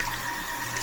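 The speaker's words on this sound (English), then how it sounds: "let me rinse this real quick" Tap water runs steadily into a kitchen sink as a food container for portioning vegetables is rinsed, a close, even broadband rush with no break across the short moment and no voices.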